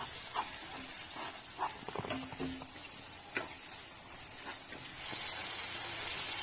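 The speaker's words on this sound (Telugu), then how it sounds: "ఇలా కొత్తిమీర వేసుకొని లో ఫ్లేమ్లో ఫ్రై చేయాలి" Coriander fries on a low flame for egg biryani, giving a soft, steady hiss and sizzle with scattered faint stirring clicks. The sizzle swells louder near the end.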